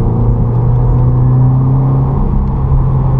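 A 2015 Subaru WRX engine droning in third gear at about 45 mph, a loud, steady low cabin rumble with constant road noise and no talking.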